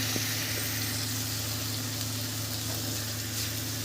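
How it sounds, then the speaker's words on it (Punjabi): Masala with tomatoes and salt roasts in a pan for a mushroom and peas curry, giving a steady, close, unbroken sizzle and crackle throughout, with no talking. "ਹੁਣ ਮਸਾਲਾ ਸਾਡਾ ਭੁੰਨ ਰਿਹਾ ਆ"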